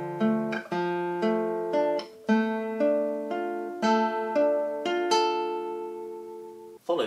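Classical guitar playing a slow, arpeggiated barre-chord passage from Beethoven's Moonlight Sonata, notes plucked one after another in an even triplet rhythm and left ringing, close and clear with no talking.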